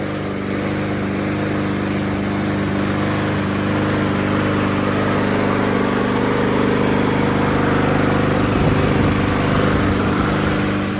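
A 2007 Honda HRZ216TDA lawn mower, rusted carburetor and rescued from under a deck, runs at a loud, steady idle for the whole stretch with a slight shift in its drone near the end.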